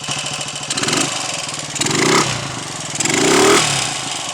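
A Royal Enfield 250 five-speed motorcycle with a foreign carburettor fitted runs close by, a steady thumping idle that swells in a few short revs.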